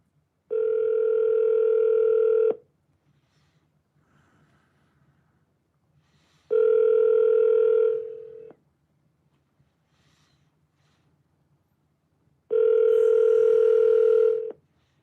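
A phone call placed through an Alexa device rings out as three steady, loud electronic ringback tones, each about two seconds long, separated by roughly four seconds of near silence.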